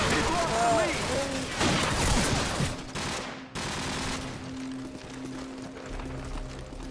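Rapid gunfire in a Modern Warfare multiplayer match, loud bursts of automatic fire for the first few seconds, then quieter game noise with someone speaking.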